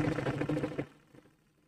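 A sewing machine stitches round the seam of hot pants, a dense rapid whirring burst for under a second that then stops, leaving faint quiet handling noise.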